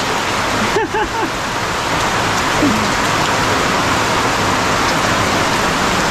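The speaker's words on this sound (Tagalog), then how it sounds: "Ayun na naman ang ulan. Nakalakas." Heavy rain falls in a steady, dense, loud roar outdoors, continuous throughout, with a brief voice faintly heard near the start.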